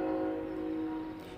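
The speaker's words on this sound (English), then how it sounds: "And you probably hear a train in the background" A train passing in the background sounds a sustained, steady horn tone that fades slightly toward the end, carrying over a low rumble with no talk.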